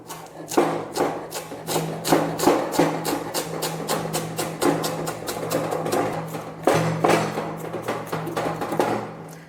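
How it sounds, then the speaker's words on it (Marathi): Leafy greens with tender stems being chopped on a board with a knife, a steady run of close, crisp repeated knife strokes with only brief pauses. "असं चॉप करून घ्यायचं आहे."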